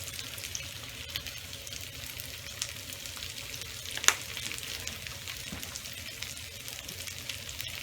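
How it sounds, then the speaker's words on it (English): Leftover baked potatoes with seasoning salt sizzle and brown in a frying pan, a steady, faint crackle with a few small pops and a brief clink. "So now we're just going to brown up all of this together"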